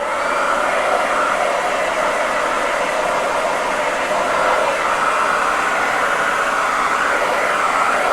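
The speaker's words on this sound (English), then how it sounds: "Okay, so I'm going to dry this again." A hair dryer blows steadily on a DIY Christmas saw decoration, a loud, continuous whoosh that runs unbroken for the whole stretch with no talking.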